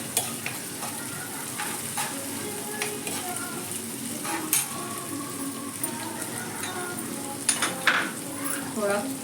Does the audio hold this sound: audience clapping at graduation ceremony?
no